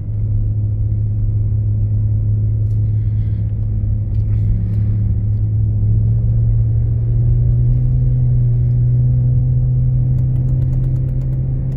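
A car approaching and passing on a snowy road, heard as a steady, loud low engine rumble that swells gently through the middle without any talk.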